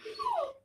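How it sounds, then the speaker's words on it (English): Dogs whimper in the background, one short whine sliding downward over about half a second, faint and without any talk over it. "y'all can hear the dogs in the background"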